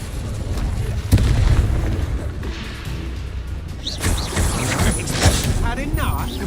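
An Incendio fire spell explodes in a Hogwarts video game: loud booming blasts with crackling, whooshing bursts, close and repeated across the moment, mixed with a voice.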